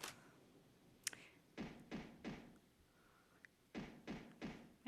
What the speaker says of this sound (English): Maybe someone's banging on the door.